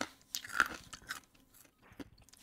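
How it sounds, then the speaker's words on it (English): Freeze-dried sour Skittles crunch between teeth in a few close, crisp bites and chews, quiet and irregular with short pauses between them. "I'm munching on freeze-dried sour Skittles."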